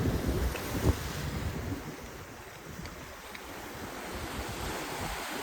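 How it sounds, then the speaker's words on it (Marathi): Sea waves roll in at high tide on a Navi Mumbai beach as a broad, steady wash of surf, with wind buffeting the microphone and one brief louder surge early on. "कसं समुद्राच्या लाटा पण आता वर येतात, भरतीचा टाईम दुपारचा"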